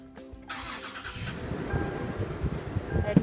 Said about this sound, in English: now we can crank the car.